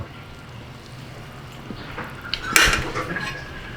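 Utensils clink against a plate while Indomie Mi Goreng green chili instant noodles are served, a quiet scraping build-up ending in a bright, close metallic clatter.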